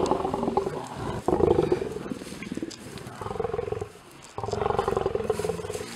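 A white lion roars loudly and close by in repeated heavy bursts, with brief pauses between the deep rumbling calls and no talk over them.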